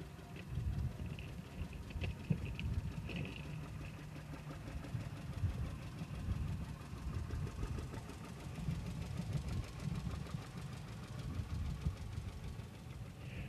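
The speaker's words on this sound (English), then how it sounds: "Next up is another John Deere 60, driven by Ken Vanderloop himself." John Deere 60 tractor engine running at a threshing show parade, a steady low, chugging rumble with faint knocking, heard from a distance under outdoor ambience.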